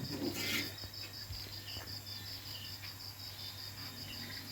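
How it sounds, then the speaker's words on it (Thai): Night insects and frogs calling after rain in rural Thailand, with a steady high-pitched cricket trill pulsing throughout and soft croaks underneath, faint and distant. "เสียงกบ"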